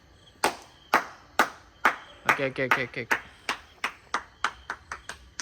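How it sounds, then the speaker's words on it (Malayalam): A dozen or so sharp, close hand claps in a loose steady beat, a quick run of faster claps in the middle, with a voice speaking over them. "ക്ലാപ്പ് ചെയ്യടാ."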